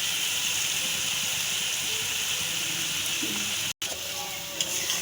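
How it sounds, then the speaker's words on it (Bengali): Potol (pointed gourd) frying in a pan with salt, turmeric and Kashmiri chilli powder makes a continuous close sizzle and hiss. The sound cuts out briefly near the end, then resumes. "এবার আমি এটা ভেজে দেবো একটু"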